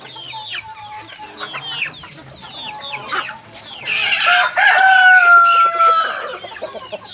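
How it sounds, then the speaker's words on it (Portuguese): Several roosters, including a Grisendre rooster, crow loudly and repeatedly nearby, with hens clucking in the background between the long, drawn-out calls. "Isso aqui é o galo da raça Grisendre."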